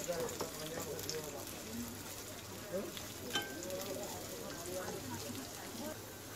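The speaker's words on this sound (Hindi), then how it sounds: "हम इसमें स्लाइस किया हुआ हमारा कांदा डाल देंगे। इसे हम अच्छे से फ्राई कर लेंगे गोल्डन ब्राउन होने तक।" Sliced onions fry in hot oil, giving a steady, close sizzle with soft crackles and occasional stirring scrapes.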